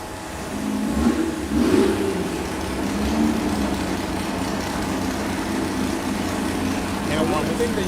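A VW engine runs on a dyno, heard from outside the dyno room at an EMPI engine battle: a steady, muffled mid-pitched drone that swells slightly near the start, mixed with background noise and voices.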